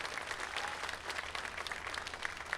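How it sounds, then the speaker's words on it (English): Applause from an outdoor audience for electrical union workers installing solar panels on a warehouse roof, a steady wash of clapping throughout, moderately distant and even. "Give them a great big round of applause so they can hear you."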